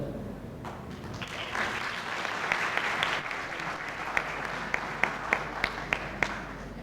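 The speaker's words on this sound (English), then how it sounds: "I would like to request all the participants of the conference to clap for her." Applause from participants at a conference session on Pakistan-Poland cultural relations, a moderate room-filling patter that thins toward the end into a few distinct, sharper claps.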